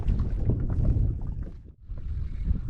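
Gusty wind buffets the microphone during inshore kayak fishing, a loud, rumbling roar that dips briefly before surging back, with no voices.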